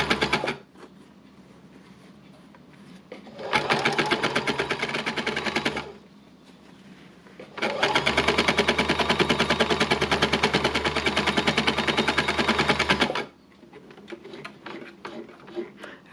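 A sewing machine runs in two bursts of rapid, even stitching, a short one then a longer run, with quiet pauses between.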